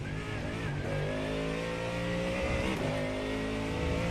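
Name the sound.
GT3 race car engine in video game iRacing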